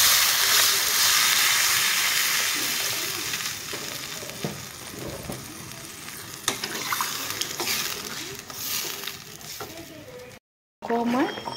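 Egg and kohlrabi curry sizzles and fries in a pan, with intermittent stirring scrapes and clinks and a hiss as broth goes in, steady and close, ending with a brief drop to silence.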